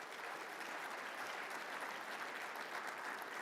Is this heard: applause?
yes